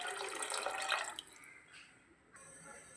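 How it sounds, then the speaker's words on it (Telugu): Water is poured into a pressure cooker for egg biryani, making a close, bright splashing rush for about a second that then fades into quieter trickling and dripping. "ఇలా 5 గ్లాసెస్ వాటర్ అయితే నేను పోసుకుంటున్నాను."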